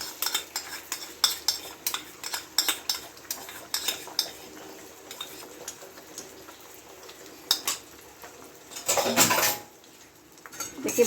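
Egg being stirred and scrambled in a pan with mustard oil: quick, irregular clinks and scrapes of a utensil against metal over a faint sizzle, close by, ending with a louder burst of frying.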